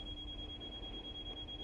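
A cab warning alarm on a simulated West Coast Main Line train, triggered with AWS active, holds one continuous piercing tone over a low rumbling hum, with no talk.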